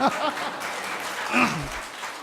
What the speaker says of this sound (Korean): 요 대목에 박수 나와야 되는 거예요.